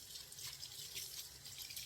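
Tap water running steadily into a sink during a face-washing routine, a continuous hiss with no talk over it.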